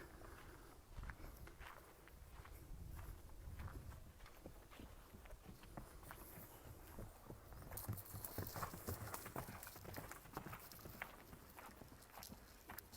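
Horse hooves clip-clop along the ancient stone Appian Way in Rome, a steady walking rhythm of sharp knocks heard outdoors at moderate volume, growing slightly nearer and louder partway through.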